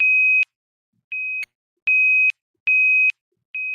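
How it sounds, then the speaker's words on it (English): An alarm clock beeps in a clean electronic tone, bursts of about half a second repeating four to five times at an uneven pace with silence between, loud and alone. "Is that what you wanted, your alarm clock?"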